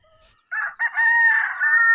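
A rooster crows close by, one drawn-out cry with a rising start and a long held tone, after a brief faint chirp.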